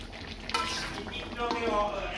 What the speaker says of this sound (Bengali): ভালো করে নেড়ে দিচ্ছি, ভালো করে